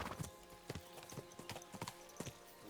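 Horse hooves clip-clop at a slow, uneven walk in Kingdom Come Deliverance 2, a series of sharp close knocks over a faint background hum, with no talking.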